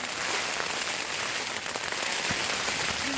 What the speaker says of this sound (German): Wir haben heute Nacht leider mit einem kleinen Sturm zu kämpfen.